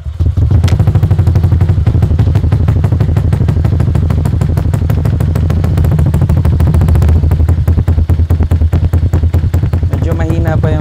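Honda Click scooter fitted with a TSMP stage 3.5 exhaust, cold-started and idling with a loud, deep, rapid popping thump, close to the pipe, with a voice briefly cutting in near the end.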